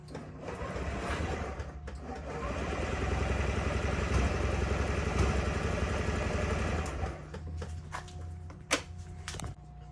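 A 2006 Honda Ruckus scooter engine with old fuel and a faulty carburetor and choke runs roughly, chugging and rattling unevenly up close before it dies down, followed by a few clanks.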